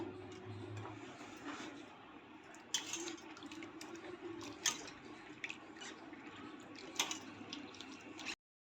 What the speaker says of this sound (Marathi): आता याला एका पाण्यामध्ये छान धुवून घ्यायचं. स्वच्छ पाण्यामध्ये चांगलं चोळून घ्यायचं.